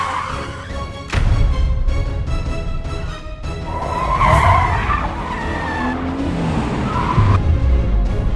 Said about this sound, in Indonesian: Dia teriak suara Rafka terus kayak ada suara mobil direm begitu